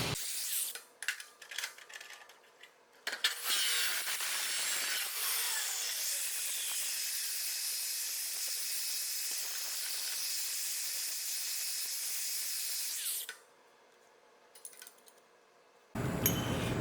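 A high-speed cut-off saw slicing a 45-degree cut with its workpiece clamped in a jig: a steady bright, hissing roar that holds for about ten seconds, bracketed by spin-up and spin-down whirring, close and loud.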